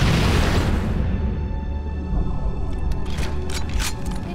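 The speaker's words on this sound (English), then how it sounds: "Behold, this grenade jump." A grenade explosion in Halo: Combat Evolved opens with a loud, sustained boom that slowly decays into rumbling game noise, with a few sharper clatters near the end.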